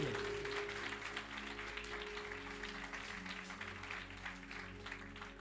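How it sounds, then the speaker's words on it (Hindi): A church congregation claps for a sermon topic on the death of death, a dense, steady wash of applause lasting the whole stretch, with sustained keyboard tones running underneath. "आए जोरदार तालियां बजाएं फिर इस टॉपिक के लिए"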